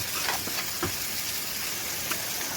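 Pumpkin greens and tomatoes fry in a pan with a dense, continuous sizzle and a few faint scraping stirs, close and fairly loud.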